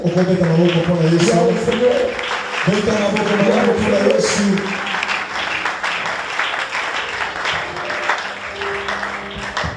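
A church congregation bursts into loud, sustained applause, with a preacher and other voices calling out over the clapping before it thins out.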